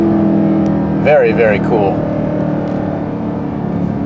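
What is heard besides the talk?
Dodge Durango SRT 392 engine revving to the redline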